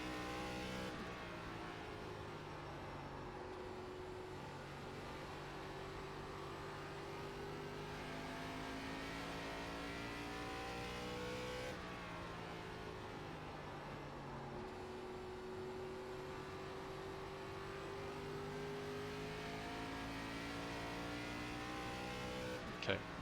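An ARCA race car runs a hot lap at IRP in the iRacing video game, its engine droning steadily through repeated upshifts and rising revs, with a voice talking over it.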